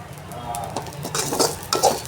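Curry leaves dry-roasting in a pan are stirred with a utensil, giving a soft crackling rustle broken by several sharp metallic scrapes and clinks against the pan.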